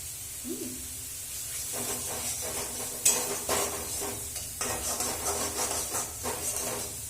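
Kashmiri chilli and green chillies fry in an oily pan for a tilapia dish in mustard paste, giving a steady sizzle with stirring scrapes and a sharp crackle partway through. No one speaks.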